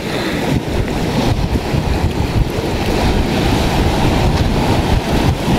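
Rough sea with big rocks along the shore, waves surging and washing in a steady loud roar mixed with wind buffeting the microphone, continuous throughout with no talk.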